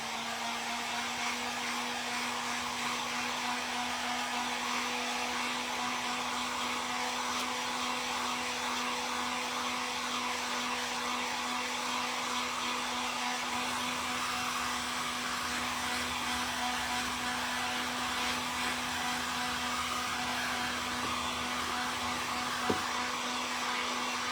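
A hair dryer runs steadily and fairly close while drying a freshly painted thrifted chicken figure, with a constant whirring blow and a strong hum tone, unbroken and with no talking.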